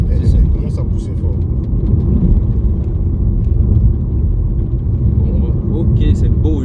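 A Range Rover Evoque accelerates hard on city streets in Abidjan, a steady loud low engine rumble filling the cabin while people talk over it.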